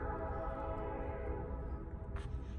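A train sounds near a lakeside property at Deep Creek, a steady tonal horn-like drone from a distance holding throughout, with a short faint click near the end.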